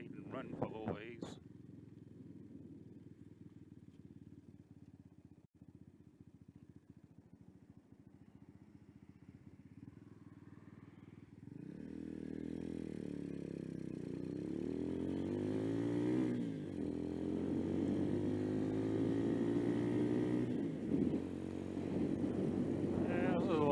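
A Venom X22R 250 street motorcycle on a morning commute, its small engine droning steadily, then revving up through rising and falling gear pulls with wind rush after about twelve seconds, loud and continuous throughout.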